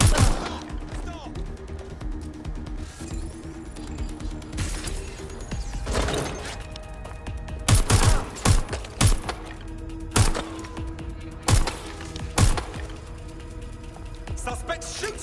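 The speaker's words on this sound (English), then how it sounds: "Suspect shooting!" Gunfire in the game Watch Dogs Legion, scattered sharp shots and thuds, some in quick bursts, loud and close, over ambient game noise with clattering mechanical sounds.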